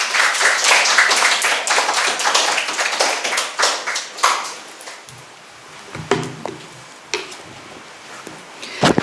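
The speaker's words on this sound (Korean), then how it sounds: "우리 박수로 모실까요?" Applause from a Korean church congregation at a Sunday service in Siem Reap, Cambodia, welcoming the preacher forward: dense clapping for about four seconds that thins out, followed by brief talk and a few scattered sounds.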